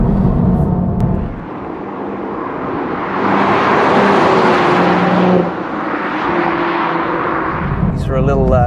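Manual 2023 Toyota Supra on a twisty road, a steady engine drone rising and dipping with gear changes, heard from inside the car with someone talking over it at the start and end.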